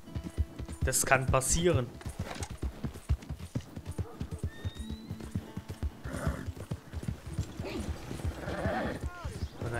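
A horse in Red Dead Redemption 2 galloping through a town, with steady rapid hoofbeats running throughout and a whinny early on, heard beneath someone talking over the game.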